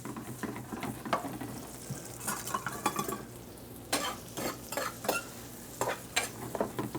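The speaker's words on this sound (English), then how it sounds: "Hear a little sizzle there." Potatoes sizzle quietly on a barbecue grill while utensils scrape and clink against a pan in irregular bursts, close up.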